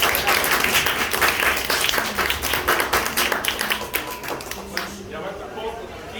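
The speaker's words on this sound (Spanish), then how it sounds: "Denle un aplauso a los compañeros." Classroom audience applauding student presenters after a school presentation on Honduran history; dense clapping fades over several seconds, with voices talking over it near the end.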